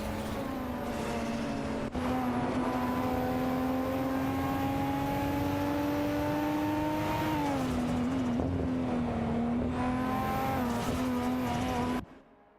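Race cars, among them a Ferrari 512 TR, in a racing video game, their engines droning loud and steady with slowly rising pitch, a brief drop and recovery midway, before the sound cuts off abruptly.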